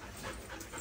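A dog pants in quick, steady breaths close by, a soft continuous huffing with no voices over it.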